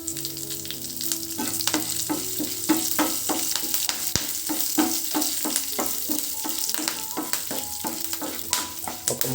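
Dried red chilies and curry leaves frying in hot oil over a low flame, a loud, busy spluttering sizzle with sharp crackles and pops continuing throughout, no voices.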